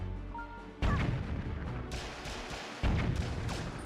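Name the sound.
boomerang throws destroying cannons in Zelda Wind Waker video game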